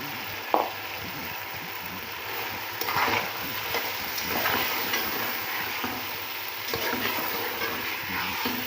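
A spoon scrapes and stirs through sizzling aloo matar pulao in a frying pan as green peas are mixed in with potatoes and soy sauce. Several distinct scraping strokes sound over a steady close-up crackle, with no talking.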